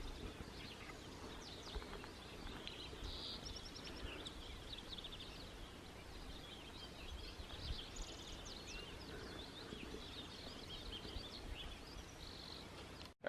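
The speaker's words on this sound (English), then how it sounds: "Birds are going nuts." Birds call and chirp faintly in a forest near a lake in Oregon's Eight Lakes Basin, scattered high notes over a quiet, steady background with light rustling.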